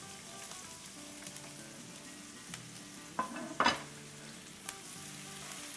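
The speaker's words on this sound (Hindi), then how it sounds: "इसे हमें ब्राउन नहीं करना है, बस थोड़ा सा सॉटे करना है।" Green chili, garlic, ginger and chopped onion sauté in oil with a soft, steady sizzle, broken by a few spatula scrapes and a brief louder burst midway.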